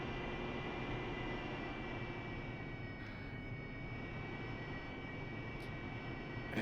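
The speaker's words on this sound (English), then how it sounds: "we won't need much runway with this load, and we'll do a stall takeoff" An AV-8B Harrier jet spooling up for a stall takeoff on a Nevada range, a steady dense engine roar heard from inside, unbroken and without talk.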